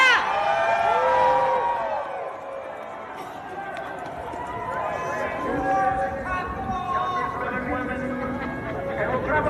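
Crowd at a Trump rally before the march to the Capitol, many voices cheering and whooping loudly together, a dense roar that swells and holds, with shouting mixed in throughout.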